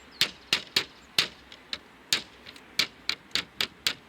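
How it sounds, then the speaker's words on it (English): Roughly a dozen sharp, close taps knock lead flashing into place on a fibre cement slate roof, coming in uneven bursts with short pauses and no talk. "If your lead's sticking proud at all, just give it a tap."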